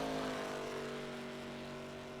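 An ARCA stock car idles and rolls slowly into its pit stall at Auto Club, a steady low engine drone with a smooth, tapering hum, fairly faint and without talk.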